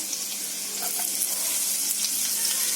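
Garlic, onions and green chili sauté in hot oil in a pan, a steady bright sizzle that runs throughout, close and fairly loud with no talking.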